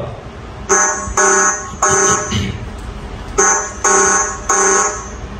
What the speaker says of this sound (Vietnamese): thì chế độ đuổi nhanh này là chế độ mình báo động mình đuổi người ta đi